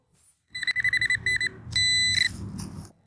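Metal detector in a Buenos Aires park beeping over a buried coin: a run of short rapid electronic beeps, then a longer sustained tone and a few more bleeps, close and clear over faint outdoor noise.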